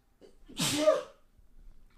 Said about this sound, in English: I'm sorry, I'm gonna sneeze.